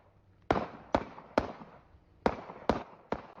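Six sharp gunshot-like cracks fired into the air, spaced unevenly about half a second apart, each loud and close with a short ringing decay.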